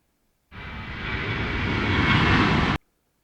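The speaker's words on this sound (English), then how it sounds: "So I recorded multiple aeroplanes for the time I spent up at Bristol Airport" An aeroplane at Bristol Airport makes a steady broadband roar that starts abruptly, holds loud and close for a little over two seconds, then cuts off sharply.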